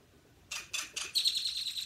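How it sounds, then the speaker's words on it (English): A small bird calls in a quick run of sharp chirps, then a higher sustained trill, clear against a quiet outdoor background. "did you hear that bird?"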